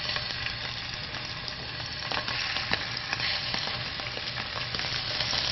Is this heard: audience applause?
no